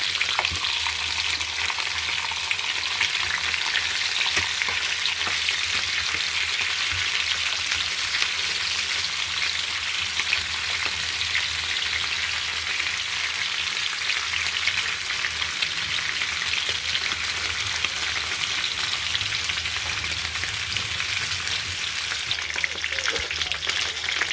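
Rabbit pieces frying in a pan, a dense continuous sizzle and crackle of hot oil that holds steady and close throughout, with no talking.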